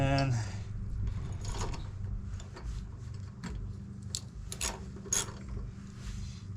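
A ratchet snugs down a lawn mower blade bolt in a series of quick clicking pawl bursts, close and fairly loud over a low mechanical rumble, with brief pauses between strokes.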